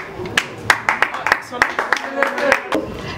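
Scattered hand claps from a small group, uneven and quick, building into light applause under some background voices.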